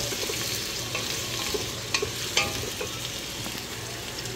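Onion sautéing in oil for goat caldereta, a soft continuous sizzle with occasional spatula stirs and scrapes, close but fairly quiet, no speech.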